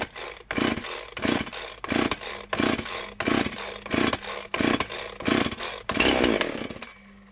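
A Husqvarna 350 chainsaw being serviced, its two-stroke engine sputtering and revving in a rapid series of loud pulsing bursts, then briefly running on before cutting out, close and dominant.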